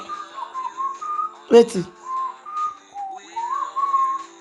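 A person whistles a wandering melodic tune in short phrases, close and clear, broken midway by a brief burst of speech.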